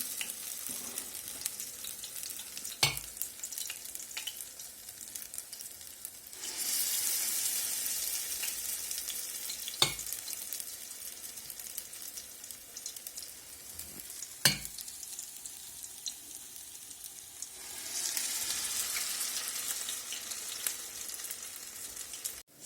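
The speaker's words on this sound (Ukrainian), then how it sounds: "І отак смажемо такі котлетки." Potato patties sizzle steadily in a hot covered pan over medium heat, with a few sharp clinks and scrapes and louder bursts of sizzling, and no voices.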